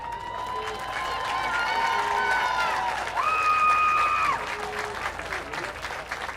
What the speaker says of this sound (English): Let's make some noise as they storm the field.